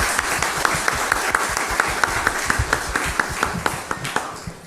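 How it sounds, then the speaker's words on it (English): Sustained applause from an audience at an academic opening lecture, dense steady clapping with a few louder individual claps standing out, lasting throughout at a moderate distance. "applause for our guests."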